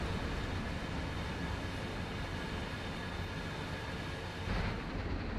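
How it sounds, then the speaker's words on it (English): An intermodal freight train in Train Sim World 2 rumbles past at Horseshoe Curve, a steady dense roar of wheels and cars, loud and unbroken throughout. "Here comes another intermodal train on our left."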